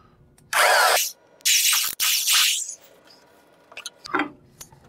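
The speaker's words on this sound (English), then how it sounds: "I'm just gonna drill a little hole through here and put a piece of wire in." A power drill whines in two loud bursts as it bores a small hole through a wooden birdhouse, then stops, leaving faint clattering and handling noises.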